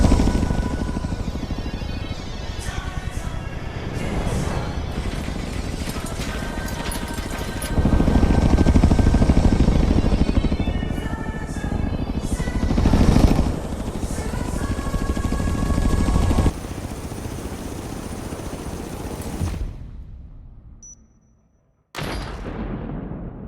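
A plane engine drones loudly as it carries a Hoonigan Focus up Blizzard Mountain in Forza Horizon 3, a steady roar with shaking, rattling bursts and rising swells before cutting out near the end, with a brief final hit.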